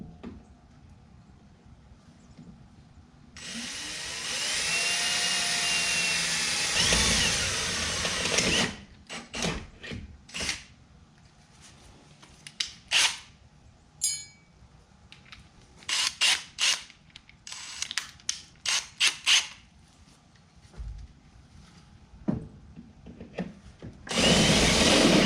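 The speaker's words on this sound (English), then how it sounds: "and then I'll drill that hole out." A 7/8 inch step bit drills a hole in car metal during a clutch cable conversion, with a long, loud whining drill run followed by a series of short, sharp bursts and pauses.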